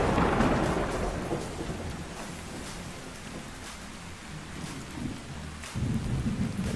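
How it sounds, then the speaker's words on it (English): Heavy rain and rolling thunder sound in a Minecraft world with the Castle Craft Structures mod, a dense, loud and continuous downpour with repeated deep rumbles and cracks throughout, and no talking. "I keep forgetting that the rain and the thunder is so loud on the sound"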